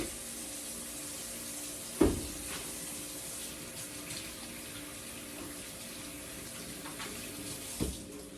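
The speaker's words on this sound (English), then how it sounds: "let me go wash my hands" Hands are washed under a running kitchen tap, a steady close hiss of water broken by two brief knocks against the sink.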